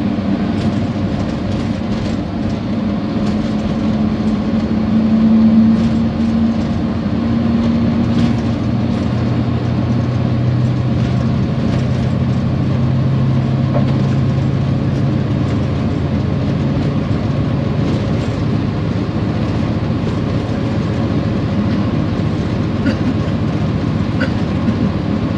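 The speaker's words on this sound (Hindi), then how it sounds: "कोट लखपत रेलवे स्टेशन से रवाना हो चुके हैं।" A Pakistan Railways train pulls out of Kot Lakhpat railway station, heard from the running crew's locomotive as a steady, loud mechanical rumble with low droning hum and faint rhythmic rail clatter that holds unbroken throughout, with no talk.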